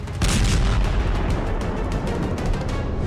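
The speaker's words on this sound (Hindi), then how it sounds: "इजराइल पर फट रही मिसाइलें भारी तबाही मचा रही है" Missiles explode in a war zone in Israel, producing a dense, continuous roar of heavy booms and rumbling blasts that sustains loudly throughout with no voices over it.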